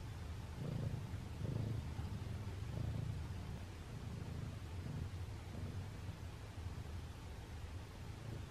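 Steady low rumbling purr from a cat, close and continuous, with gentle rhythmic swells over a soft background hiss.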